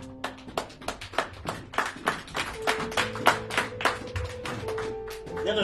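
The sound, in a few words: congregation applauding the Lord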